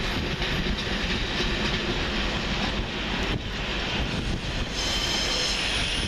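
A passenger train rumbles through Doncaster station close by, a loud continuous roar of wheels on rails with rhythmic clatter and occasional squeals.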